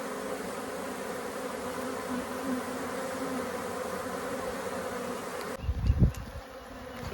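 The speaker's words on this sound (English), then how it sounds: "They're basically flapping their wings towards the opening" Honeybees from a freshly caught swarm fan and buzz at the entrance of a new hive, a steady dense drone that holds for several seconds before a few louder, close low thumps near the end.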